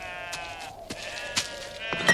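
Sheep bleat several times in wavering, nasal cries, fairly close, with a steady tonal drone underneath and no talking.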